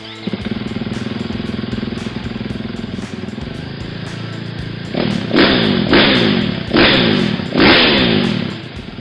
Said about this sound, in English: Let's start the bike up for testing.